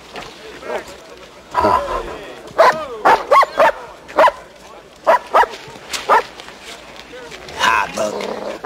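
A dog barks in a string of loud, sharp woofs spaced a beat apart, close by, with tense shouting voices between the barks in a 1993 film.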